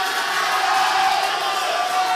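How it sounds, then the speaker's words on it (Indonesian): Supporters of candidate number 1 at a public debate for regent candidates cheer and applaud loudly as a dense, continuous crowd roar with whoops and shouts. "kami silakan untuk pendukung paslon nomor urut 1 memberikan tepuk tangan kepada paslon"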